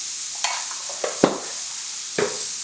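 Beetroot pieces being stirred in a hot pan, with a steady bright sizzle and a few sharp scraping knocks of the spoon against the pan, close up and without talk.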